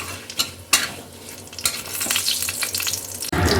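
Cumin, dry red chillies and bay leaves sizzle in hot oil in a kadai, loud and close. A spoon stirs and scrapes through them several times.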